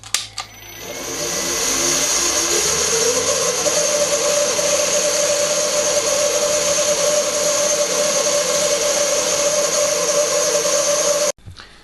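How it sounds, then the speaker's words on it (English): A drill with a Forstner bit bores into a plywood bearing housing, spinning up to a steady, loud, tonal whine that holds for about ten seconds before stopping abruptly. "make the bearing housing, which I did with a Forstner bit"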